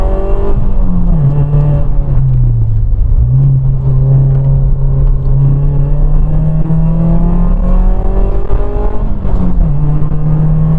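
A Ford Fiesta ST150, a small front-wheel-drive hatchback, accelerates on the road, its engine drone rising and dipping steadily through gears, loud and close from inside the car, alone without talk.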